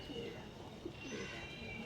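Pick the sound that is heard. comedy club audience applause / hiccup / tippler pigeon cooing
tippler pigeon cooing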